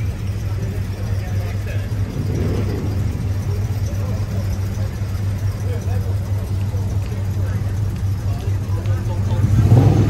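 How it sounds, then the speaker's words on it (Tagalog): Vintage cars roll past in a National Day parade in Kristiansund, Norway, a steady low engine rumble close by that swells near the end, with someone talking over it. "makikita nyo ngayon yung mga vintage na mga sasakyan nila ngayon"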